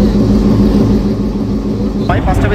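Dhalarchar Express train pulling out of Sardah Road railway station: a continuous low rumble and engine drone held steady throughout, with a brief voice-like sound near the end.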